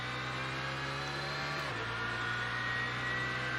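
A race car engine in Assetto Corsa drones steadily at high revs, loud and continuous, with a brief pitch drop as it shifts partway through and no talking.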